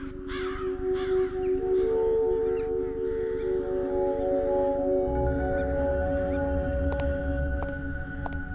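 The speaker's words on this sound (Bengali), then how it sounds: "এই কাকগুলো এখানে এরকমই করে নাকি? এদের আওয়াজে আমার মাথা ধরিয়ে দিয়েছে।" Crows cawing persistently, repeated harsh calls layered over a steady tonal drone, loud and close with several birds overlapping throughout, no talking.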